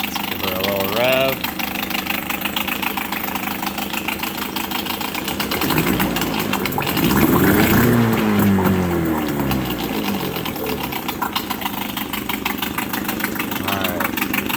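A 1999 Suzuki 6 hp outboard motor runs steadily after a cold start, a continuous close, loud idle with a slight knock and a brief rise in revs midway, while voices speak over it.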